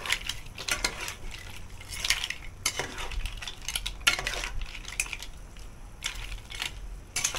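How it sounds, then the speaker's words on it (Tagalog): A seafood boil being stirred in a pot to coat it in sauce, with close, irregular clinks and scrapes of a utensil against metal and wet shuffling of shells, moderately loud, with no talking. "imimix lang natin hanggang kumapit ang kanyang sauce"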